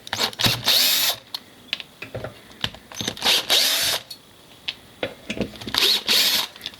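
Power driver bursts backing screws out of the ECU covers on an S14a SR20DET, several short whirring runs with pauses between, close and loud, no talking.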